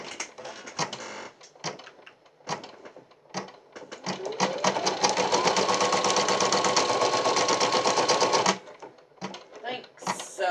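An embroidery sewing machine stitches an in-the-hoop Christmas ornament with a steady, rapid mechanical chatter that speeds up and runs for several seconds close by, with talk and short bursts of stitching around it.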